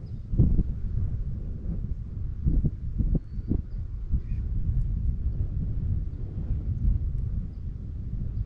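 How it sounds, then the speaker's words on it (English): Gusty wind buffeting outdoors on a lake at night, low rumbling noise with a few sharp bumps, steady and fairly quiet, no one talking. "It's a little bit windy out here tonight"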